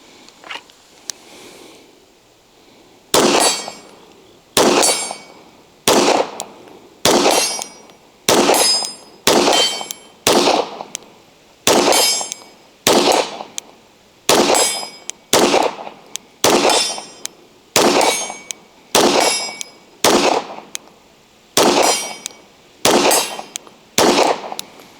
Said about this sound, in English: There's a silhouette target down there on the left. It's steel. We're going to shoot at that.